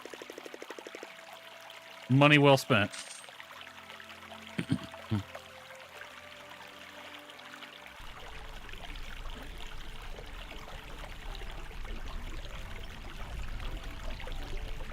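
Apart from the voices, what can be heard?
soaking in hot spring water in Portia video game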